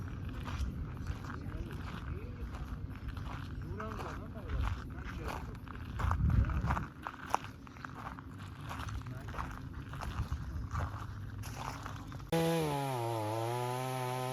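A 20-inch dull chainsaw cuts into a massive fallen tree trunk blocking a road in a Victorian national park, its rough buzzing engine rising and falling under a voice speaking, with a sustained tone taking over near the end.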